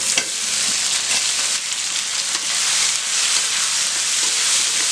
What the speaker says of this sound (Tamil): கத்திரிக்காய் நல்லா வதங்கிடுச்சு, எண்ணெயிலேயே நல்லா வதங்கிடுச்சு.